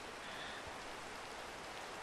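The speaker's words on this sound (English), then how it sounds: "That rain is loud to me." Steady rain in a Minecraft modpack game hisses as a dense, even wash of noise throughout, constant in level with no breaks or voices.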